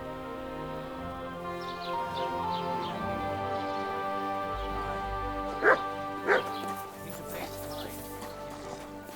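A dog barks and whimpers in Kingdom Come Deliverance 2, with two short sharp yelps standing out over a steady game background of music and ambience.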